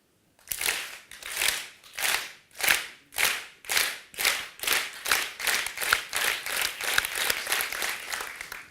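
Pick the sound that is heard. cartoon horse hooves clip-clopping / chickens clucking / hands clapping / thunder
hands clapping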